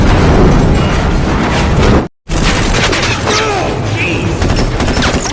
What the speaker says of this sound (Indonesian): Flash dan Bosco berusaha menyelamatkan diri dari ledakan tersebut